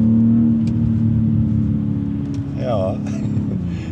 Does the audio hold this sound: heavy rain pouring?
no